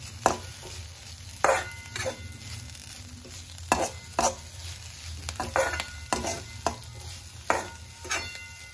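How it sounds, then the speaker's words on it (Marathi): Okra bhaji with chopped coriander is stirred in a pan, with a spoon scraping in repeated strokes over a steady low sizzle, close and clear. "त्यानंतर आपण याच्यामध्ये थोडीशी कोथिंबीर टाकणार आहोत, चिरलेली कोथिंबीर टाकलेली आहे आणि चांगलं मिक्स करून घेणार आहोत।"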